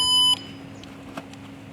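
A Cleanrth bird repeller gives one short, loud electronic beep at the start and then falls quiet, leaving a low steady hum with a few faint clicks.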